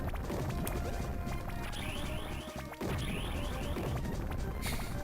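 Footsteps of a character in the Game Boy Advance game Astro Boy: Omega Factor (2003), rapid clacking steps under dense game music and crashing effects, with a short gap midway.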